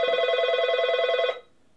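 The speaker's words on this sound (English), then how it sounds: "Phone just called." A telephone rings once indoors with a close, bright electronic trill that pulses rapidly for about a second and a quarter, then stops cleanly into quiet.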